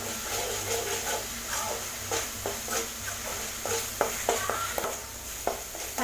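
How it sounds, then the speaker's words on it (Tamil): Ginger garlic paste sautéing in a pan for mutton kulambu, a steady close frying hiss with light stirring scrapes and a few spoon knocks throughout. "இஞ்சி பூண்டு பேஸ்ட்டையும் நல்லா வதக்கிக்கங்க"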